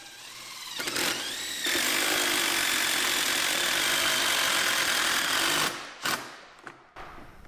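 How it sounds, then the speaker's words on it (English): A power drill drives a large fastener through a wooden deck beam into a post. A loud, continuous grinding whir runs for about five seconds, followed by a few short bursts as it finishes. "take that fastener, chuck it in your drill bit"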